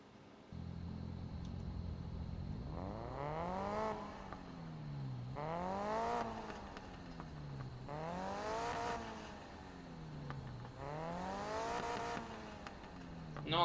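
Engine of a Mini driven off-road in Need for Speed Payback, revving in four repeated surges that climb and drop in pitch over a steady rumble, loud and close with no talk.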